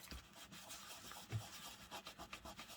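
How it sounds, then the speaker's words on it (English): Paper freshly glued into an ephemera storage folder being rubbed by hand to dry it, giving a soft, continuous brushing friction in quick back-and-forth strokes, faint and close with no talk. "Just keep rubbing until it's dry and hopefully it'll come off."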